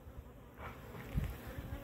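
Honey bees hum steadily around a hive frame in an isolation cage test, a soft continuous drone close by with a few louder swells as individual bees pass near.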